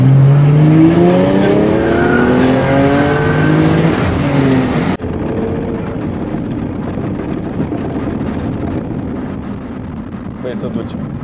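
BMW 335i E92 coupe fitted with a 2JZ engine accelerates hard, with loud rising engine harmonics and tire squeal building over the first five seconds, then a steady loud roar of road and engine noise with voices talking in the car.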